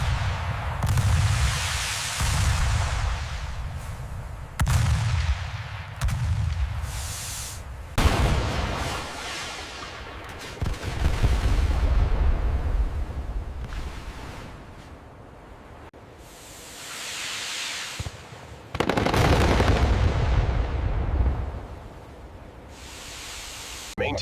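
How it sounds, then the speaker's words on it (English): In a naval video game, a CIWS close-in weapon system fires at incoming ordnance: repeated long, roaring bursts of rapid-fire noise with heavy low booms, separated by quieter gaps, loud and near. "Incoming ordnance. All hands brace for impact. CIWS is active."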